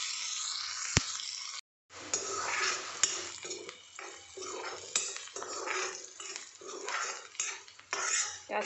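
Onions and green chillies fry in a pan as a spoon stirs and clinks against the metal, with sharp taps, a brief silent gap, then continued scraping over a soft sizzle, close and moderately loud.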